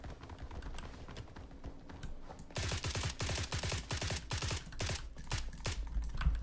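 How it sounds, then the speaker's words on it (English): Burst-fire rifle shooting in the video game Blackhawk Rescue Mission 5, rapid close bursts of gunshots that run together almost like automatic fire, with a few scattered shots at first and then denser, louder volleys. "it still has the burst mechanism where you have to hold it down all the way. So if you get the burst down entirely, it sounds like it's automatic"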